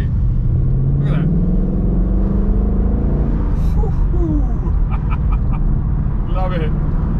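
A Ford Mustang GT convertible engine pulls along steadily while cruising, without hard acceleration, giving a loud, continuous rumbling drone that runs under nearby talking.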